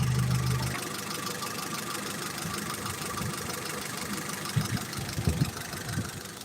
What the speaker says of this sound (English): That is a great running 4-cylinder Honda